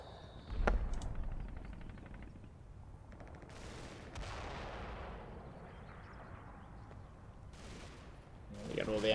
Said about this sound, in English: All the MG fire in the going into the village.